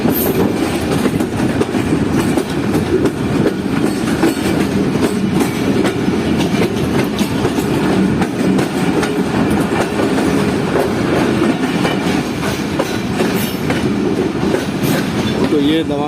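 Pak Business Express passenger train rolling on rails as it approaches Nawabshah railway station, a loud, continuous rumble with rhythmic clickety-clack of wheels over rail joints and occasional faint squeals.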